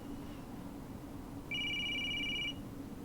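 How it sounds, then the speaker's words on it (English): A telephone rings in the video game Clam Man: a single clean electronic ring burst lasting about a second, rising out of a quiet low hum, with no one speaking. "Guess we do have to answer the phone."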